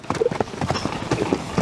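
Hooves of a horse for sale at an animal market clop in a quick uneven rhythm close by, with light talk in the background.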